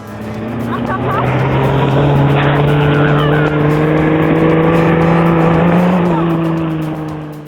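A dune buggy drives across desert sand dunes in Peru, its engine holding a steady, loud droning tone that rises slightly in pitch and stays close throughout.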